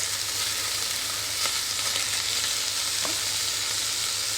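Pork, onions and sauerkraut fry in a pan, giving a steady, close, even sizzle with a few faint clinks of stirring and no voices.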